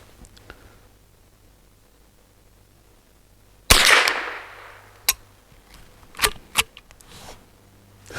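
A single loud shot from an MBGL Goat-15 rifle firing Remington ammunition at a steel target, with a decaying ring, followed by several sharper, fainter cracks or pings spaced over the next few seconds.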